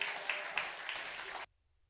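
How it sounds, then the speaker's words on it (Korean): A church congregation claps to welcome the pastor, a short burst of dense applause that stops abruptly after about a second and a half, leaving near silence. "우리 나오실 때 우리 또 박수로 환영하도록 하겠습니다"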